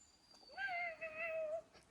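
A cat gives one drawn-out, rising then wavering meow close by in a quiet forest cabin setting, lasting about a second with a brief dip midway.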